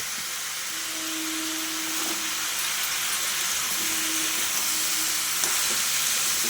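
Ash gourd curry is stirred in a hot pan after salt and turmeric go in, making a constant loud sizzle with faint scraping and stirring sounds throughout.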